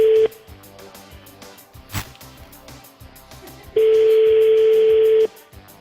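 Telephone line ringing during a call, with two steady electronic tone bursts, one brief at the start and a longer one later, over quiet background music.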